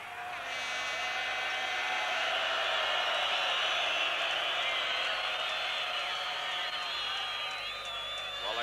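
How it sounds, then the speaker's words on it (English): A large football crowd at an early-1980s European match between Ajax and Celtic roars in a sustained, loud wash of noise, disapproving of a back pass to the goalkeeper, steady throughout. "like any crowd in Europe, they don't like the ball knocked back like that to the goalkeeper"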